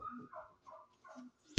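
A small dog makes a few soft whining yelps in quick succession, fairly quiet, ending with a short sharp knock.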